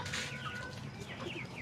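Adult rooster and backyard chickens clucking close by, a busy layered stretch of fowl calls with no speech, kept among pet hens, pigeons and ducks.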